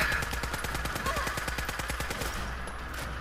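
Rapid automatic gunfire from a video game gun rattles in a fast, even burst of closely spaced shots, loud and near, that stops abruptly toward the end, with faint talk in the background.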